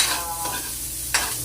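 Garlic sizzles steadily in a hot pan for fish sticks, a continuous close frying hiss with a brief louder burst of crackle near the end and no talk.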